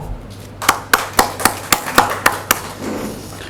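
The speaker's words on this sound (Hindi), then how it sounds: "उनके लिए मैं जोरदार ताली बजाना चाहूंगा" Loud, sharp claps in honour of a speaker at a Vedic seminar, about nine distinct strikes in an irregular rhythm over roughly two seconds, then fading into a low murmur.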